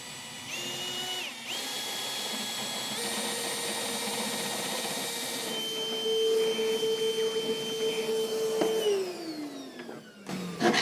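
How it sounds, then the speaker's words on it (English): A power drill with a step bit bores out holes in the frame of a 2015 Ford F-series truck, a steady whine that climbs in pitch as the bit bites, then winds down near the end, close and loud. "We're going to come up top with our step bit, and we will enlarge our holes"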